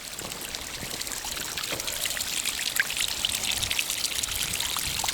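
Rainwater pouring from spouts during heavy rain outdoors; a steady, close splashing and trickling rush that holds evenly throughout, with no voices.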